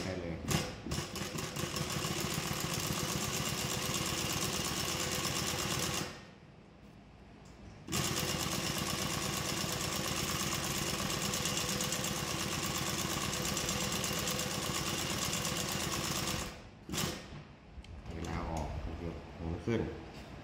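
A SURE SR-10-1 hand-guided chain-stitch embroidery machine runs with a steady, busy mechanical whir, cutting out twice for a second or so before resuming, close and loud.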